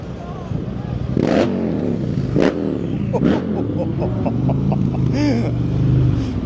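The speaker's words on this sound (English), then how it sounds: "A few nice cars keep roaring past as well." Several loud cars, including a Lamborghini and an Audi R8, roar past one after another at Matlock Bath on a bank holiday, engines revving hard and fading, over a busy street background with some chatter.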